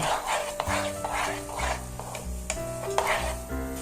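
A spoon stirs half a teaspoon each of pepper and nutmeg into a lobster mac and cheese sauce, making soft scraping and swirling sounds over a steady kitchen background.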